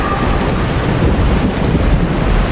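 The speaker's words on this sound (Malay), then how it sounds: "Hanya tinggal hujan dan angin." Rain and wind roar together in a dense, loud, unbroken wash of noise with heavy low rumble, as if heard from inside a car stopped on a highway shoulder.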